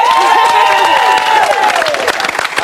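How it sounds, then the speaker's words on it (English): A television studio audience, kids among them, breaks into applause and cheering, a dense, steady wash of clapping with excited voices and a sustained sung or shouted tone riding on top. "Give yourselves a round of applause."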